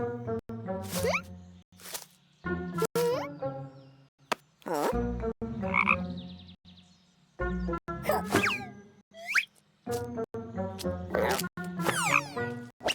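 Loud, close frog croaks in a cartoon come in repeated bursts, with some cartoonish squeaks and thumps scattered between them.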